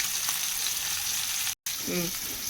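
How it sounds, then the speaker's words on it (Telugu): Fish, a grass carp, sizzling steadily in oil in a pan beside a curry, a dense continuous hiss with a brief dropout near the end and no talk. "పక్కన చేపల ఫ్రై వేగుతుంది ఇందులో."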